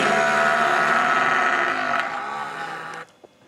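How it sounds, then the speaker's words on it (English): A striped hyena gives a long, loud, harsh wavering call that holds steady for about three seconds and then breaks off abruptly, leaving near silence. "It is actually a striped hyena."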